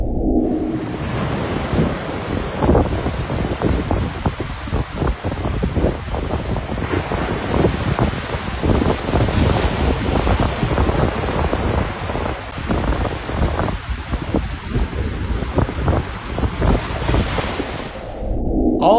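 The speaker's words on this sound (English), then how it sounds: "All that water boiling is bluefish." Open sea churned by a feeding bluefish blitz, with continuous splashing, waves and heavy wind buffeting the microphone. The rough, dense water noise runs throughout, and no one speaks.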